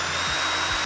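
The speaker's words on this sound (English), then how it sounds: "we just use a 3mm drill bit and we can drill that out." A power drill with a 3mm bit bores out a plastic nut insert on a car spoiler, one close, steady whine that runs almost the full moment before easing off at the end.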